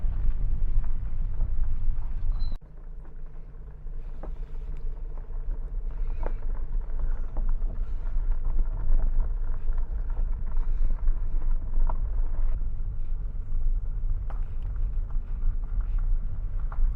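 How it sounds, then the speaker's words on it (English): Low, steady wind rumble buffets the microphone throughout at a campsite in Crowsnest Pass, with a brief dip early on and faint background noise, no voices. "Well, it's still windy"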